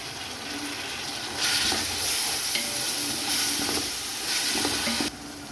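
Two medium tomatoes hit a pan of sautéed ginger-garlic paste for chicken pulao, the steady background hiss jumping into a loud, bright sizzle that holds with stirring before easing off near the end.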